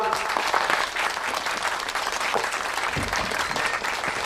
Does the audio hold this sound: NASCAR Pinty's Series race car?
no